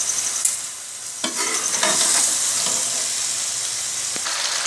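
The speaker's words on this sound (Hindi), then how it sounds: "हल्की आंच पे हम इसे थोड़ी देर इसी तरह पकाते रहेंगे।" Cauliflower and chicken cooking on a low flame, giving a steady soft sizzle with occasional stirring scrapes and clinks, close by with no talking.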